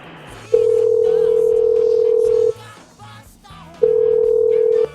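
A telephone tone after a dropped call, heard as two long steady electronic beeps, each about two seconds, separated by a short pause, loud over low background noise.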